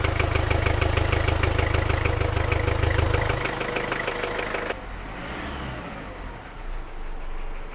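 A Ford Ranger turbo diesel engine runs close by, a loud steady rhythmic idle that drops in pitch and then settles into a quieter, softer hum.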